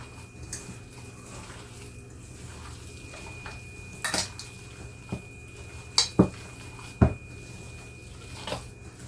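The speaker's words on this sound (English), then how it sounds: "I'm going to mix everything in together." Utensil clinks and scrapes against a bowl as an egg is broken up and mixed into ground chicken meatloaf, with sparse sharp taps over quiet room noise and no talk.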